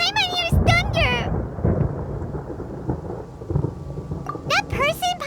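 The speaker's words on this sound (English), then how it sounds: "Paimon hears thunder!" Deep rolling thunder rumbles through a rainstorm in the Genshin Impact video game, a long low roar with steady rain, with brief character voices at the start and end.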